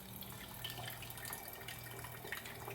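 Portable overland water pump running water outdoors, a steady faint splashing stream with light drips throughout and a low pump hum underneath, no talk.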